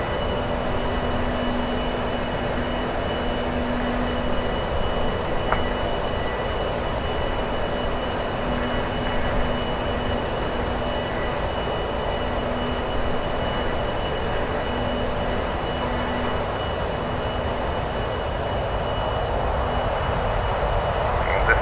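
A TFDi Design MD-11F freighter's jet engines in Microsoft Flight Simulator produce a loud, steady droning rumble with a constant tonal whine layered on top, unbroken for over twenty seconds and with no speech.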